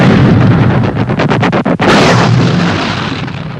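Napoleonic-era cannon artillery fire at the battle of Waterloo, heard as a loud, dense barrage of booms and rumbling blasts with a quick rattling burst of shots partway through.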